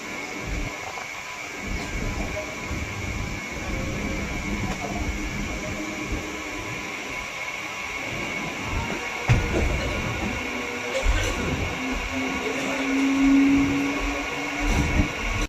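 An Etawah–Mathura MEMU train rolls steadily toward Jaswant Nagar station, a continuous rumbling clatter and hiss from inside the coach with occasional louder knocks and a brief tonal whine near the end.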